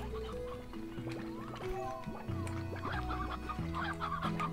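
Hens clucking in the farming game Slime Rancher, repeated short clucks and chirps from several birds, moderately close, layered over continuous game music and ambience.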